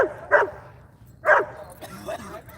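Dogs at a dog park give a couple of short, sharp yips and barks nearby, with a voice chatting in between.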